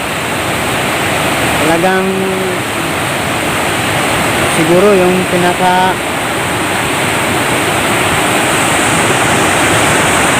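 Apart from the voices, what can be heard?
flood water rushing over bridge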